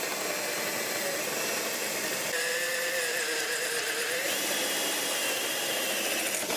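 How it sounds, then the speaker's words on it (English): A power drill with a 1 1/4 inch hole saw cuts through PVC pipe, giving a continuous close, loud whine whose pitch rises and dips as the saw bites. "here we're first drilling with the hole saw, and I am using the larger hole saw this time"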